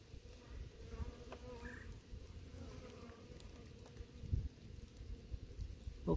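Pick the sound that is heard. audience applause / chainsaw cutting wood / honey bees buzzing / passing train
honey bees buzzing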